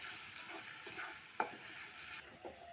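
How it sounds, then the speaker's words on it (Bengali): A spice paste with turmeric and salt is stir-fried in a pan, faint sizzling under a few soft scraping strokes of a spoon, quiet and close. "হলুদ, লবণ দিয়ে আর কিছুক্ষণ কষিয়ে নেব।"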